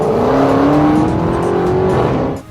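A 2016 Dodge Charger Hellcat accelerates hard, its supercharged engine roaring loud and close with a steadily rising whine before the sound drops off at the end.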